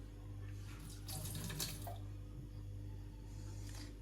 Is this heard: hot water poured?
yes